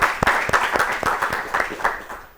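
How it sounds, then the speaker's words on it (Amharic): A class audience applauds a student on an Ethiopian children's TV show, with sharp individual claps rising out of steady group clapping, close and lively, then fading at the end. "አጨብጭቡላት በደንብ አድርጋችሁ።"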